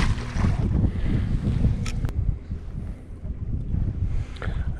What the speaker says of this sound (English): Especially against this wind.